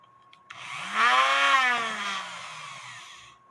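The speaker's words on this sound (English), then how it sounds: "It fits in my Dremel. If you put the Dremel on too high of a speed," A Dremel rotary tool spins a brass wire brush at high speed: the motor kicks on, whines up to a high pitch, then slowly winds down, close and loud, with no voices.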